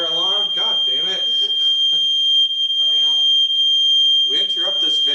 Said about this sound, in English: We interrupt this video for a brief fire alarm.